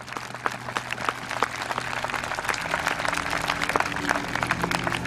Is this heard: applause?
yes